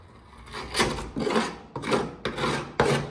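Rust is scraped by hand off the box rails of a 2010 Ford F-150 in five close rasping strokes, each a short gritty scrape with brief pauses between.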